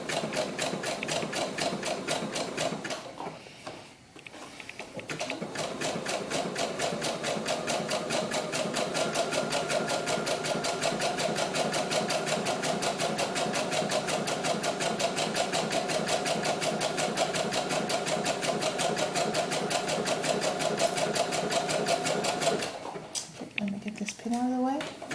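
A sewing machine stitching doll gloves runs in a steady fast mechanical rattle for most of the time, pausing briefly near the start and again near the end, while a person talks over it.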